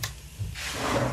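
Wooden wardrobe drawers in a newly organised bedroom are slid open or shut, a soft sliding scrape and light knock close by, with no talking.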